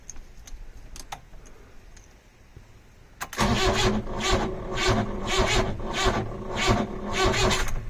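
A Ford Transit van engine fires up for the first time on a nearly dead battery: a quiet stretch with faint clicks, then a loud, steady mid-pitched running roar with rhythmic pulsing that continues to the end.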